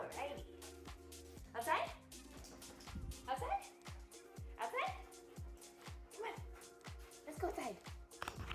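A dog whimpers and gives soft yips in short repeated bursts, with a fairly quiet, close feel and faint background sounds between the cries.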